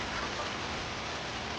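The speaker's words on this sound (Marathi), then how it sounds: "जोरदार पाऊस सुरू आहे" Heavy rain pours down at Kunkeshwar in Devgad, on the Konkan coast, as a dense, steady hiss that stays constant from start to finish, with no voices.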